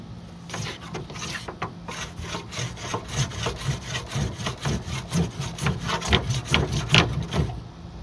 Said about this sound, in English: Bunch of forward rolls just to tighten it up.